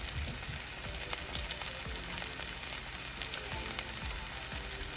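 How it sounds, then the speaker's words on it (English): Cumin seeds and onions fry in hot oil for an eggplant, tomato and spinach sauce, giving a steady, even sizzle and crackle with faint spatters and no voices. "once the onions are in there and they start releasing some water, I'm going to add in a 1/4 teaspoon of cumin seeds"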